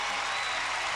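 Crowd roaring and cheering at the 1996 Pac-10 women's gymnastics championships, a dense, steady wash of applause and voices filling the whole moment.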